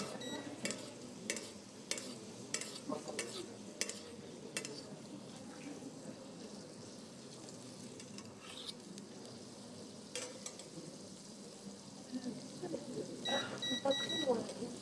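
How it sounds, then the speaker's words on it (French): Meat sizzles and spits in a hot pan as it is basted with its fat during the last stage of cooking, a steady frying crackle with scattered clicks, and a short electronic beep near the end. "On peut juste arroser la viande, donc pour la lui donner."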